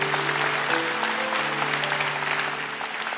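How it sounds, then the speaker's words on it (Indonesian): A congregation claps together at a church sermon, a dense and steady wash of applause, fairly distant, holding across the moment under a sustained low tonal hum. "Kasih tepuk tangan untuk Tuhan Yesus."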